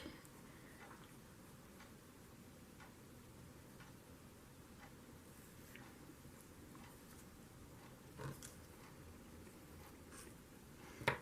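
A pen draws scruffy lines along the edge of a moss and fern drawing in a journal, giving soft, faint scratchy strokes in short repeated bursts, close and quiet against a low background hum.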